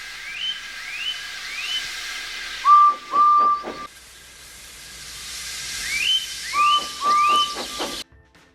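Steam locomotive whistle from a Thomas & Friends episode, sounding in several short shrill bursts, with a second group of toots after a pause, loud and close, with no talking.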